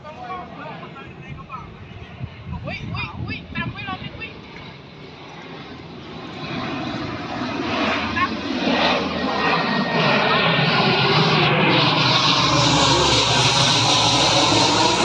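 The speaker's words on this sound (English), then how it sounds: "Here's another plane." A low-flying airplane approaches and passes overhead a house building site in Phetchabun, Thailand, its engine roar swelling from a distant rumble to a loud, sustained drone, with people talking early on.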